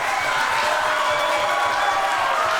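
A large wrestling crowd roars in a steady, dense wash of cheering and noise at a live show, continuous and fairly loud with no distinct pauses.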